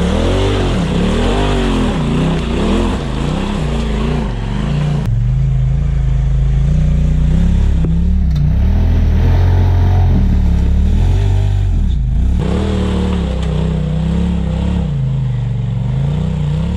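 An off-road vehicle's engine revs loud and close while it crawls over a rock on a mountain trail, the pitch rising and falling in surges with clattering underneath.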